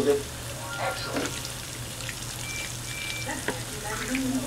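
Southern fried mock chicken, made from scratch, sizzles steadily in plenty of hot oil, with a continuous crackling frying hiss and a few small pops and stirring sounds throughout.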